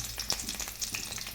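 Curry leaves, dried red chillies and tempering spices crackle and spit in hot oil in a home kitchen, with busy close sizzling and a few sharp pops over a steady hiss, no talking.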